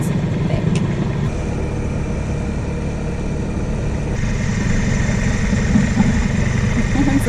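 A Johnson outboard motor on a small boat drones steadily up close as it pushes through thick kelp, a continuous low mechanical hum without any pauses.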